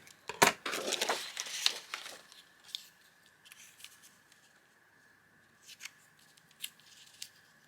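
Scissors snip through paper during papercraft tag-making, with a dense run of close, crisp cuts over the first two seconds, followed by a sparse scatter of quieter snips and rustles.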